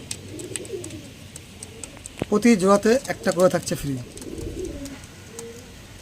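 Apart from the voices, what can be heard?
pigeons cooing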